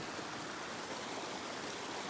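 Rushing water at a hidden waterfall in Karjat during the rains, a steady broadband roar of heavy flow with no breaks or voices, loud and continuous throughout.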